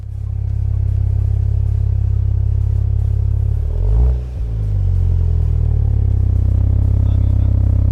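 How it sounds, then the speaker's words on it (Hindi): A Jeep Wrangler's dual-tip exhaust idles as a loud, deep, steady rumble close by, dipping briefly midway as the revs shift, then settling back into the same heavy drone. "सबसे पहले आपको एग्जॉस्ट नोट की साउंड सुनवाती हूँ"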